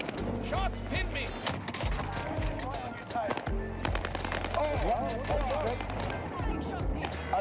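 Rapid automatic gunfire crackles in a Warzone battle royale match, with bursts of shots and distant pops continuing steadily while players talk excitedly over them.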